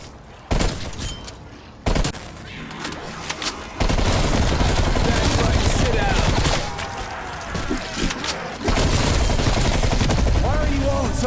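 Gunfire in Call of Duty: Black Ops Cold War on PS5, a match against bots: dense bursts of automatic fire and rapid shots, loud and close, running almost continuously with short gaps and swelling in intensity.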